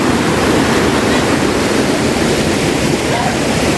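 Loud, steady rushing water of a river flowing close by at a campsite in Ulu Yam, Malaysia, a broad constant roar with no pauses.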